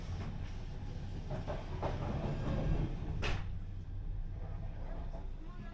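Inside an old intercity carriage on the Copenhagen-Hamburg train: a continuous low rolling rumble with faint clicks and a brief sharper knock partway through, no clear talking.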